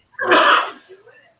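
A single loud, close sneeze with a sharp burst of breath, trailing off into quiet.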